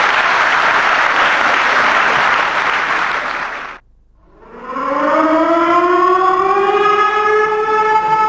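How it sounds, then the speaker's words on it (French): A civil defense siren winds up into a loud rising wail, with strong layered tones climbing steadily, after a dense roaring hiss of noise and a brief moment of near silence. "vous Henriette, vous n'avez pas entendu la sirène?"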